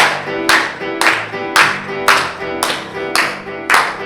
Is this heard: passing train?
no